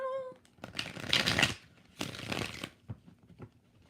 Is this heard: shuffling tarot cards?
yes